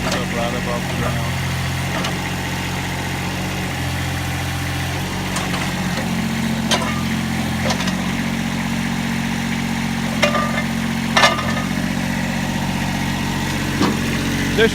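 A Kubota B21 backhoe loader's diesel engine idles steadily with a low, even rumble that runs throughout, with a few light knocks and clanks on top and someone talking over it.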